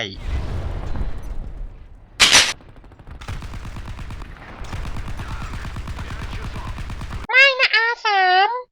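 A KPVT 14.5 mm heavy machine gun in War Thunder Mobile fires long rapid bursts, loud and close, with separate sharp shots and a short pause between strings of fire.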